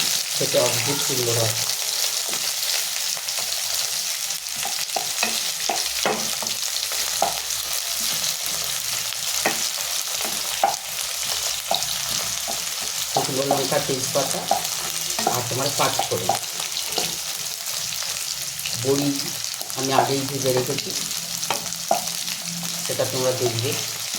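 Fish frying in oil in a pan for a Bengali katla fish curry, a steady close sizzle running throughout with stirring clinks, while someone talks over it at intervals.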